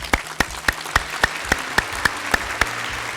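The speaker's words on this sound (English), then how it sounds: "So can we give a round of applause to Jen for all of her work?" Evenly spaced claps ring out at a steady, rhythmic pace, about a dozen sharp hits in a row, as an audience at a 2022 Maths Talent Quest award ceremony applauds Jen.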